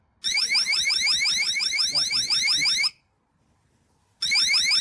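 A GoveeLife Water Leak Detector 2 alarm warbles rapidly in a high, shrill, piercing electronic pattern, stops for over a second, then resumes just as loud.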